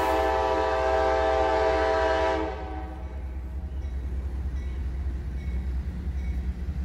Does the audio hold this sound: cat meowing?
no